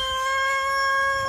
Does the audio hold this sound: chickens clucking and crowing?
yes